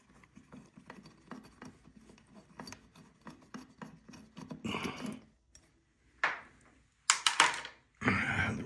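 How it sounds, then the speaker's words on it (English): Small 3/8 inch nuts spun off old ceiling fan mounting hardware by hand, a series of quick metallic rasping and rubbing clicks, close and fairly quiet, ending in a few louder scraping bursts with brief pauses between. "The old hardware was being held on with 3/8 inch nuts. I'll spin those off"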